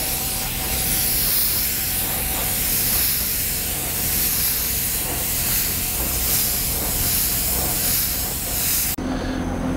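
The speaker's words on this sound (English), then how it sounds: "It should spray a little bit easier. I'm going to bump up the air pressure" A spray gun lays a clear coat over candy car paint, giving a loud, steady hiss that runs almost unbroken at close range before cutting off abruptly near the end.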